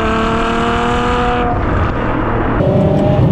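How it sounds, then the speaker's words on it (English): Ferrari V12 engine heard from inside while driving, a loud sustained harmonic drone that drops in pitch as it shifts, then picks up again, constant and close with no talking. "That V12 engine, it's never silent."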